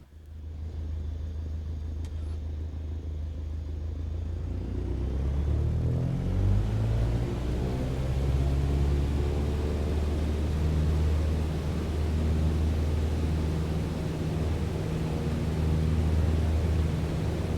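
Airliner taking off in Microsoft Flight Simulator during a night flight into Hurricane Ida: a steady low engine rumble swells as the jet spools up, with a rising whine and broadband roar that hold strong and close throughout.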